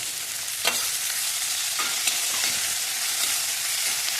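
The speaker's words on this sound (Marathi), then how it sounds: "मिरची चांगली भाजून घेऊया." Green chillies and cumin fry with potatoes in a pan for sabudana khichdi, a close, steady sizzle broken by a few scraping strokes of a spatula.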